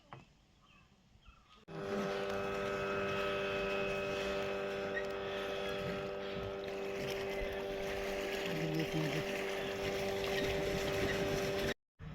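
Motorboat engine running steadily on the lake at Tapola, a close, continuous drone with strong tonal hum, starting abruptly after a quiet moment and cutting out briefly near the end.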